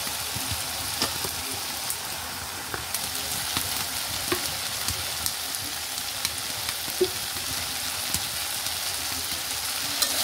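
Dried fish (shutki) is stir-fried in a pan, giving a steady, close sizzle with occasional light scrapes and ticks from stirring, and no voices.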